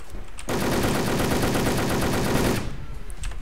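Machine gun fire in the online shooter Wolfteam, one sustained rapid burst lasting about two seconds, loud and close, with quiet game sound before and after.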